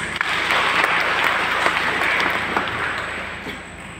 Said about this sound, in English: Shall we give him rounds of applause?